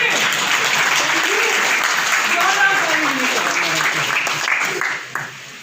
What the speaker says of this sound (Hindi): अब तो बजाओगे ताली।